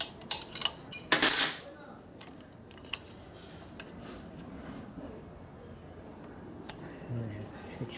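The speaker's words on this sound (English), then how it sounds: "So you just pull on both wrenches equally" Metal wrenches clink and clatter against a lock nut on a 1970 Harley-Davidson XLCH Ironhead Sportster engine, a burst of sharp metallic rattles early on, then sparse faint ticks under a quiet room.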